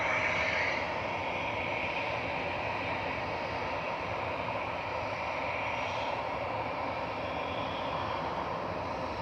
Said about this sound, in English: the Etihad's heading back to stand now